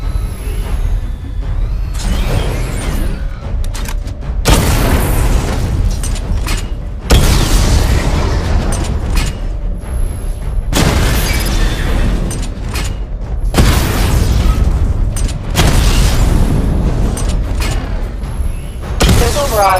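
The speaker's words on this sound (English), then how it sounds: "Charge the missile barrage to level 2 to destroy up to 4 targets at once." Missile barrage explosions in the video game Batman: Arkham Knight on PS4, a run of loud heavy booms arriving in bursts every few seconds with mechanical rumble between them and no talking.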